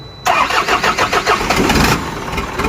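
An Isuzu 4HL1 diesel engine being started during an overhaul for overheating with new liners, pistons, rings and head gasket; after brief quiet it cranks with a rapid loud chugging, catches, and settles into a rough idle.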